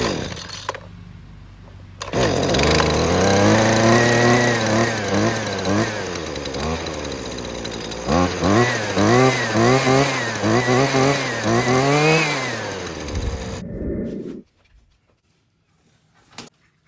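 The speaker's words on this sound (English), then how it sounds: "All right, so I got this one fired up." Small two-stroke weed-eater engine running after a carburetor repair, a buzzy high-pitched whine that revs up and down repeatedly at close range for about twelve seconds before cutting off.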